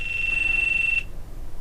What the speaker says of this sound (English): other camera beeping on me.